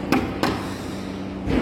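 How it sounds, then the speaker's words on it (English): A hammer taps a plywood board three times during quality checking in a plywood factory, sharp hollow knocks spaced apart against a steady machinery hum. "Every board is being checked by the hammer, good hammer,"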